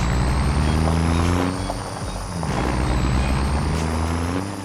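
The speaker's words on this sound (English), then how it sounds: "When we shift, this thing sounds like a most insane diesel pickup" A lifted diesel pickup truck in Farming Simulator 25 revs loud and close, its engine pitch climbing, dipping through a gear shift, then climbing again with a steady high whine on top.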